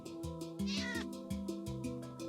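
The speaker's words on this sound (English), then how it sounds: "That's what a cat is." Repeated meowing from a cat in the video game Minecraft, several short pitched calls in quick succession, close and clear with no talking.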